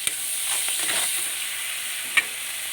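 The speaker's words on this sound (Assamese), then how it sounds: "এতিয়া আৰু অকণমান লৰাই থাকিম। এনেকৈ লৰাই থাকিম বহুত সময়।" Rajma curry being stirred in a hot pan, a steady sizzle with scraping strokes of the spoon and a couple of sharp knocks against the pan, close and continuous.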